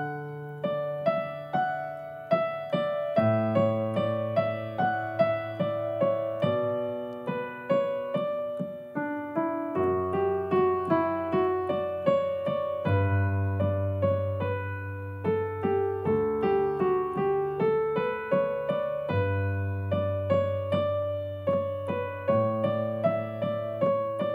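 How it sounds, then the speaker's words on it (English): Left-hand bass part of Canon in D played on piano at a beginner pace, sustained low notes changing every few seconds with soft arpeggiated tones above, steady and clear with no talking. "So with left hand, it sounds like this."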